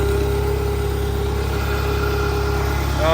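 A Case 580CK backhoe's diesel engine runs at a steady, loud, close idle with a low rumble, rising slightly in revs at the very end.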